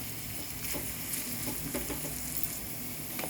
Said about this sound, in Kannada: ಇದೆಲ್ಲ ಒಟ್ಟಿಗೆ ಸ್ವಲ್ಪ ಫ್ರೈ ಆಗಬೇಕು